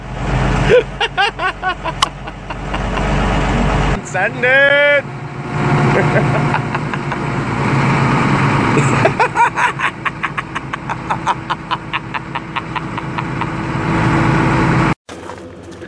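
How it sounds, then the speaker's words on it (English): Toyota Camry wagon engine revving while e-brake drifting on ice, a steady droning engine with surges and a brief squealing sweep, with a person shouting over it. "Zach, my boss is out e-brake drifting your car on the ice"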